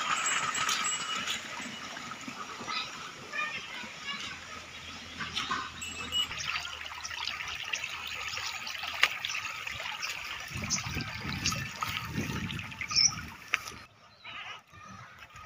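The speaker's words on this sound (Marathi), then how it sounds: "पाणी आपलं भरपूर वाहते" Plentiful water flows steadily near a temple during a pilgrimage visit, making a continuous broadband rush and trickle that holds an even loudness, with no clear talk.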